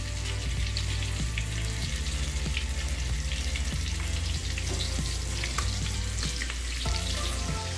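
Breaded shrimp sizzle and crackle steadily in a hot frying pan, a loud continuous fry close up with occasional pops and scrapes of turning.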